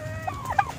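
A sick, drowsy turkey gives a few soft, brief clucks at moderate distance, quiet against a low background hum.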